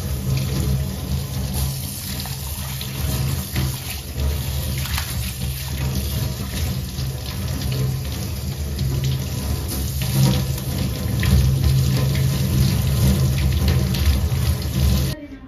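Tap water runs steadily into a sink while a cleaned, previously blackened kadhai is rinsed, a continuous close splashing hiss with slight swells as the pan moves under the stream, no talking.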